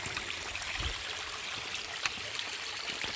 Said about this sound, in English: Beautiful stream that runs right along the Coulee Glen Trail here.